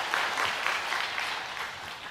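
Congregation applauding during a Sunday worship service at a church, a steady wash of clapping at moderate distance, fairly soft and even throughout.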